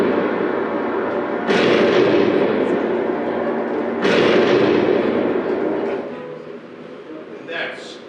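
A bomb goes off in a comedy stage sketch: two loud, broad booming blasts a few seconds apart, each with a rumbling tail, followed by a quieter fading rumble.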